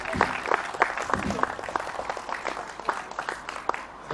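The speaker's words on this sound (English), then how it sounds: "let's give them a round of applause for the use of this wonderful garden area" A small audience gathered in a garden claps sparsely, giving distinct irregular claps at moderate distance, with some murmuring voices underneath.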